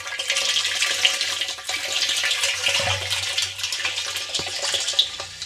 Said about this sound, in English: Use the hose, try and rinse some of the sand stuff to the sides